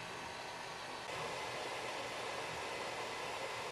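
A steady, smooth whirring hiss of a small 3D printer filament dryer fan running continuously at low volume, with no other sounds.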